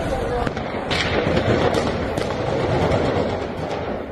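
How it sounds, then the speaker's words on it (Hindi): Gunfire strikes a court building in southern Iran: a string of sharp, irregular cracks and pops over a dense, noisy background, with voices in the mix. "हमलावर लगातार गोली बारूद चला रहे थे।"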